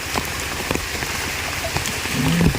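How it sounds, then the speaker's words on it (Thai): Steady heavy rain hisses down on a surface in a forest in Mae On, Chiang Mai, Thailand, a dense continuous patter with a few louder drops, and a faint voice near the end. "ฝนกระตกนะตกมากครับ"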